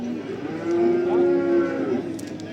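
A single long, steady moo from a young calf at a cattle market in Barda, clear and close over low background crowd noise.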